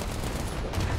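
Heavy gunfire from a Challenger 2 tank in the War Thunder video game, a loud, dense, rumbling blast filling the moment, with no speech over it.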